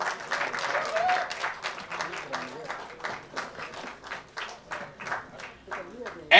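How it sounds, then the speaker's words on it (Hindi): Audience applause at a film trailer launch for Bobby Deol, a steady wash of clapping from a crowd that swells and ebbs in waves over several seconds, with voices mixed in. "और एक बार जोरदार तालियां हो जाएं for the dashing Bobby Deol"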